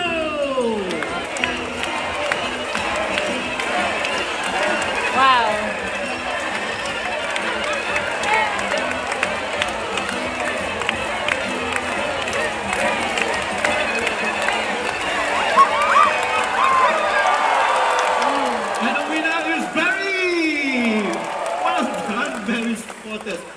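An audience at an amphitheatre bird show shouts and cheers to urge on their bird in a game, a sustained crowd roar with excited voices that swells near the end and fades into scattered calls.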